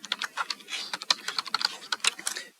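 Quick, irregular clacking of keys on a computer keyboard while code is entered, with close, crisp keystrokes in uneven bursts and no talking.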